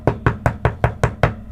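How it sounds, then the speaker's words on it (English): Seven firm, evenly spaced knocks strike a street door in quick succession, close and loud, with no voices. "knocking at the street door"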